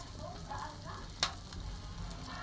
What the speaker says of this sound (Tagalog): Nagmamantika na guys.